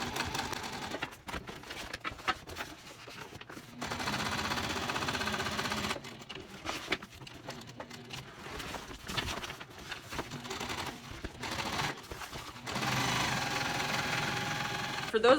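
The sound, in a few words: sewing machine stitching a seam allowance on a tote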